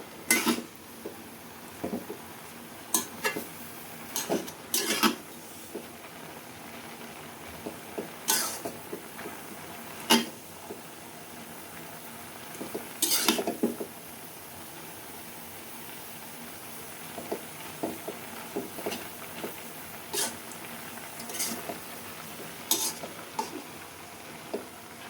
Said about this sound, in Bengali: এখন আমি উল্টাই পাল্টাই নাইড়া দেবো।